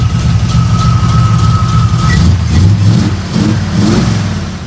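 A 1955 Pontiac Chieftain engine with freshly replaced header gaskets runs steadily close by, a loud, even low rumble with slight swells in revs and no ticking leaks.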